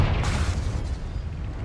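Confringo blasting spell explosion in Hogwarts Legacy, a loud, dense boom with a sustained rumbling burst that decays slowly.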